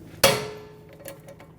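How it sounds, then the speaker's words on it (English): A hammer strikes a rear brake rotor on a 2017-2022 Honda CR-V once, a sharp metallic clank that rings out with a sustained tone and a few faint ticks after. "Grab the hammer"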